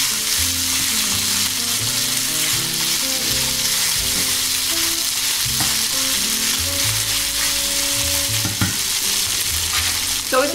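Sausages frying in a pan, a loud, dense and unbroken sizzle running the whole time, with faint background music tones beneath and an occasional soft knock.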